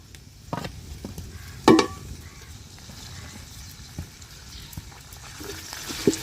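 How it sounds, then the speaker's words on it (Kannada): Mint and fenugreek leaves fry in oil with a soft, low sizzle, broken by a few sharp stirring knocks and scrapes of a utensil against the pan. "ಇದು ಸ್ವಲ್ಪ ಚೆನ್ನಾಗಿ ಎಣ್ಣೆಲಿ ಉರಿಬೇಕು, ಹಸಿ ವಾಸನೆ ಹೋಗೋಂಗೆ ಹುರ್ಕೊಳ್ಳೋಣ"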